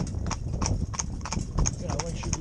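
Two horses driven in tandem beat out steady clip-clop hoofbeats at a brisk, even rhythm, close by, while people talk over them.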